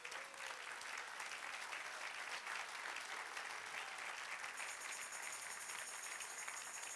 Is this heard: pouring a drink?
no